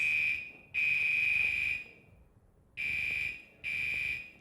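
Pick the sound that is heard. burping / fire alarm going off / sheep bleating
fire alarm going off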